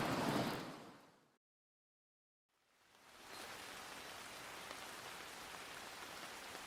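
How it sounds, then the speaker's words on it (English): Steady rain hisses down in a broad, even wash of pattering drops, cutting off abruptly into near silence before swelling back to a constant soft downpour. "The pitter-patter of the raindrops rest on the leaves and fall towards the ground."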